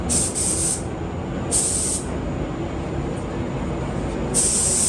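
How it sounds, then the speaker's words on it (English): Three hissing bursts from a spray gun painting a Chevy Silverado pickup truck come in short pulses with pauses between, over a steady low background hum. "Oh, you're going to spray it and see if it matches?"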